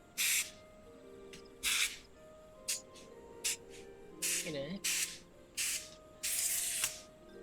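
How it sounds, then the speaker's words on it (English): A compressed-air can is sprayed to clean a dirty keyboard in a string of short, sharp hissing bursts, about nine in all, separated by brief pauses, fairly close, with a faint tonal background underneath. "Where is my can of air? My keyboard's kind of dirty."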